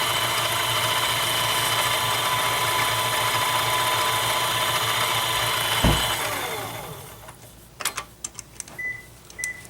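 A lathe cuts metal with a polycrystalline diamond-tipped insert at lower RPM, throwing off curls. A steady, fairly loud machining whine runs for about six seconds, then fades out into a few scattered clicks and knocks.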